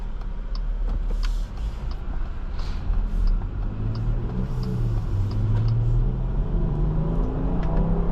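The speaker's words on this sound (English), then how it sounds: "Has a nice sounding engine." Engine of a 2025 Jeep Grand Cherokee Limited on the road, a steady low rumble with road noise that rises gently in pitch as it accelerates, heard continuously from inside the cabin.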